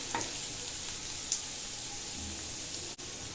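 Chicken pieces for dry chilli chicken frying in a pan, giving a steady close sizzle with light crackling pops throughout, alone with no talk.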